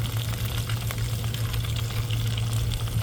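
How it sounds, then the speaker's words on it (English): A surf perch fillet seasoned with Old Bay, salt, pepper and garlic sizzles and bubbles in a fry pan over a wood fire, a steady, dense crackle that runs close and continuous with a low hum beneath. "This isn't real hot. Hot enough to sizzle and bubble."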